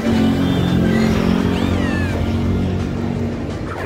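Litten, the fire-type cat Pokémon, cries in Pokémon Go with short, rising-and-falling synthetic meows over steady tonal game music and background noise.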